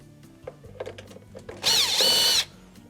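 A power driver whirs loudly for under a second as it backs out a Phillips screw from a Frigidaire washer's control housing, preceded by faint clicks and handling.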